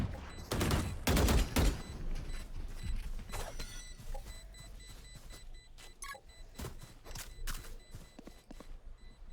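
Swarm grenades go off in a competitive shooter match as a rapid burst of sharp crackling pops, followed by scattered lighter clicks and pops that thin out over several seconds.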